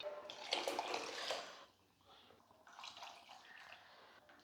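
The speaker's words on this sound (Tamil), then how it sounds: "இன்னும் தண்ணி ஊற்றணுமா" Water splashes and gurgles as it pours into a cooking pot of lentils for a second or so, then quieter trickling and clinking follow, close by.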